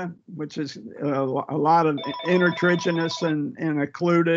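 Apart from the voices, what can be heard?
mobile phone ringing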